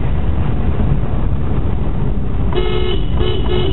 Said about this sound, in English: Listen to them toot around the corner